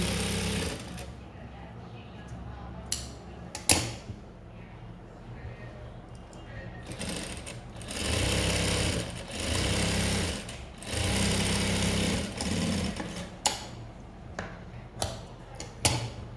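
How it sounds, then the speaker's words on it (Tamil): A sewing machine stitching blouse fabric runs in short bursts of rapid mechanical clatter separated by pauses with ticking and handling noises, fairly close. "இப்போ அதே மேலே கொஞ்சம் நம்ம உள்ள துணி வச்ச அளவுக்கு ஒரு தையல் போட்டுருங்க."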